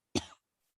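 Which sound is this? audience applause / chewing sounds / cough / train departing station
cough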